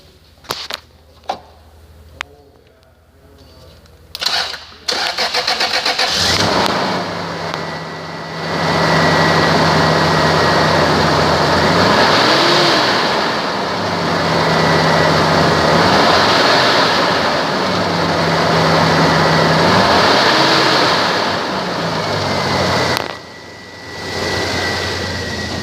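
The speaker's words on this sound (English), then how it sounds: "2002 Toyota 4Runner, mileage 175, 151, engine run video." A 2002 Toyota 4Runner with about 175,000 miles cranks over after a few clicks and catches, then runs with a steady, loud engine drone. Revs rise and fall several times before a brief drop near the end.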